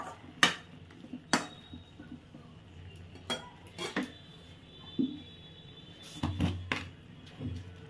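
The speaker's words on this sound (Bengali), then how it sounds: "এবার আমি এতে ভেজে রাখা বেগুনগুলো দিয়ে দেব, দিয়ে ভালো করে মিশিয়ে নেব তরকারির সাথে" Spatula clatters and scrapes against a pan as fried eggplant is stirred into spinach mixed-vegetable curry, giving sharp intermittent knocks and clinks spread across several seconds, close and fairly crisp with quiet gaps between.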